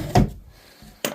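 A pull-out drawer opens with a short wooden thump and slide, followed a moment later by a second sharp knock, both close and distinct against quiet.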